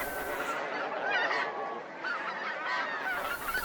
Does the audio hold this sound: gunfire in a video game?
no